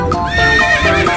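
A horse pulling a delman cart at Mekarsari arrives, loud and close. Tonal, whinny-like sounds carry over a steady background, and individual hoof clops are not distinct.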